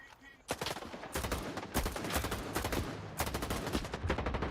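Enemy gunfire in the video game S.T.A.L.K.E.R. 2: dense bursts of rapid shots and sharp cracks fire back to back, loud and close, with brief gaps between volleys.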